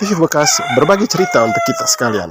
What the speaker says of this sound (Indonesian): ada ayam berkokok itu